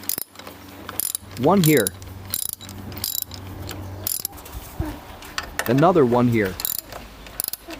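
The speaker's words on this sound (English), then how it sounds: "Tighten back the timing belt cover screws." Ratchet driving timing belt cover screws on a Fiat Punto Mk2 engine, two separate bursts of rapid close clicking with a rising-falling whir, brief speech between them and small handling knocks.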